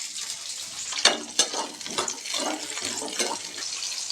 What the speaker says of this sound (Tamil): ஆயில் சூடானதுக்கப்புறம் நம்ம எடுத்து வச்சுருந்தா சின்ன வெங்காயத்தை சேர்த்து வதக்கிக்கலாம்